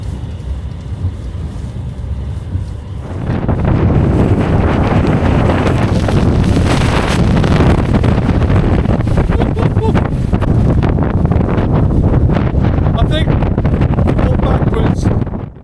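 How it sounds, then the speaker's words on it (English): Loud, roaring wind buffets the microphone with a constant rushing blast that rises sharply after a few seconds and stays strong throughout, outdoors in south Iceland. "We could obviously tell that it was very windy"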